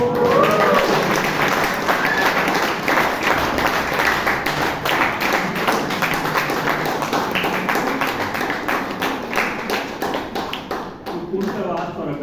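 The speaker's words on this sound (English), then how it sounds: "Big round of applause to Rajdeep." A room full of people applauds loudly and continuously at a Toastmasters meeting in Bangalore, dense clapping holding steady for several seconds before thinning slightly at the end.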